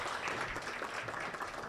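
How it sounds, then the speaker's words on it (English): A conference hall audience at the DataFest Africa 2023 opening sessions claps steadily, a dense and evenly sustained round of applause with no voices over it. "Let's give another round of applause."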